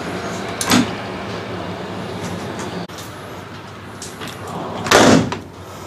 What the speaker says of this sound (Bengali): জানলাটা বন্ধ করে দিই।